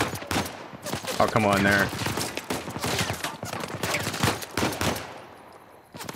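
Gunfire in Uncharted 4: A Thief's End, rapid repeated shots and bursts in a busy firefight, close and loud, with someone briefly speaking over the shooting.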